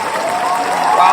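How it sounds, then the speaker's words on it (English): Crowd cheering and applause played as a sound effect in a podcast studio, a steady dense roar of clapping and cheers lasting about a second, loud and continuous, swelling slightly at the end. "Wow, the crowd goes wild."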